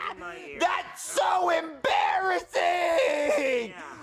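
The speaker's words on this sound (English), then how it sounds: "Why are you screaming in his ear, bro?" A loud, strained voice screams close into someone's ear in a comedy scene with puppet characters, giving several shrill, wavering bursts over about four seconds, with brief gaps between shouts.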